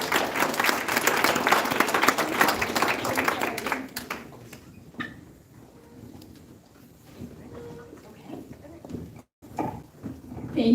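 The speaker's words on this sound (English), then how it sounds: "Can we give them another round of applause," An audience at a live-streamed ceremony gives a round of applause, steady dense clapping for about four seconds that then fades to scattered claps, murmurs and room noise.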